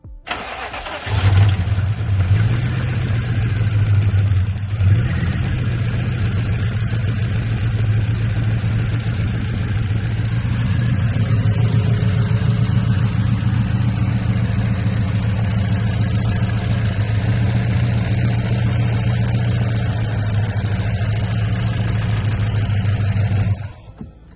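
A Lexus LS 460 with failing ignition coils cranks and starts, then runs with a loud, steady low engine rumble for over twenty seconds, the idle roughening and swelling slightly midway, with no talk.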